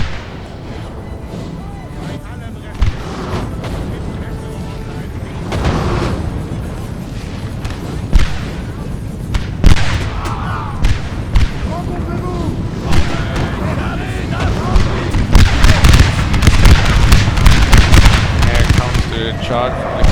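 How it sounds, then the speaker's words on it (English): Cannons firing canister shot in a Napoleon: Total War battle, repeated heavy booms and crackling volleys of varying loudness, growing denser toward the end, with someone talking over the battle noise. "Cannons are now shooting canister shots in the center here."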